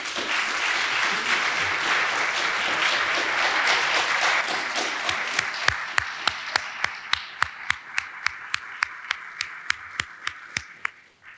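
A commencement audience at a pharmacy college ceremony applauds graduates' families: full, blended clapping that thins into a few sharp, separate claps spaced about half a second apart before fading out.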